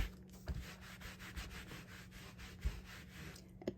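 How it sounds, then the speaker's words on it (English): A rubber stamp is scrubbed clean on a stamp scrubber, giving faint, close, rhythmic rubbing strokes repeated over and over in an otherwise quiet room. "So I've gone back to my Stamp and Mist and my scrub to get the stickiness off the"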